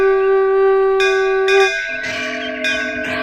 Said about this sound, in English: Ramanuja heard the auspicious ringing of the temple bells in the serene dawn.